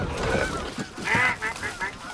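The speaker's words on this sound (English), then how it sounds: "see if you can get the geese in the background" Geese honk repeatedly at moderate distance during an early-season Michigan goose hunt, in short calls scattered through the clip, with faint outdoor background and no clear talk over them.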